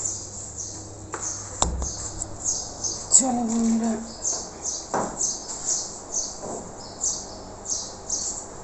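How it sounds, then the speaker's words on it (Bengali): Sparrows chirping outdoors in the morning, a rapid run of short bright chirps repeating at a steady pulse, with a few louder squawks and faint background noises. "কত সুন্দর চড়ুই পাখি ডাকছে মানে এত ভালো লাগে চড়ুই পাখির আওয়াজ"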